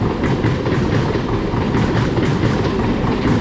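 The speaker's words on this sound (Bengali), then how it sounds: "এই দেখো ট্রেনটা যাচ্ছে, কিন্তু এটা লোকাল থ্রু ট্রেন" A local through train on its way to Howrah rolls steadily past a platform, a dense continuous rumble of wheels and carriages with rhythmic clickety-clack throughout, loud and close, with no talking.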